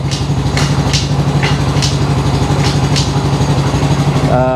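A Modenas Kriss 125 FI motorcycle engine runs nearby as the rider drops back down through the gears. Its steady throbbing pulse continues with brief revving surges, and a short rising tone comes at the end.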